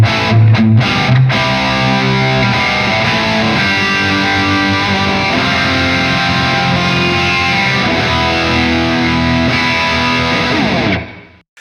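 A distorted electric guitar through wet/dry/wet stereo effects rings out in a wide, shimmering stereo wash, sustained chords blending together loudly before cutting off at the end.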